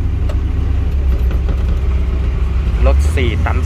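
A 4-ton truck's engine runs with a loud, steady low rumble at close range, while someone talks over it through much of the stretch.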